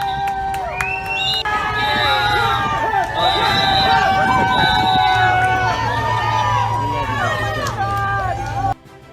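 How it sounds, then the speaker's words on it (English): A crowd of supporters greets President Trump outside his Mar-a-Lago club in Florida after his motorcade arrives, with loud, continuous cheering, shouting and babble from start to finish. "was warmly greeted by a crowd of supporters"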